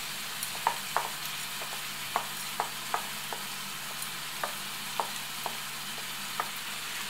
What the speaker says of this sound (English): So we are mixing everything together and leaving it for about 3 minutes like this.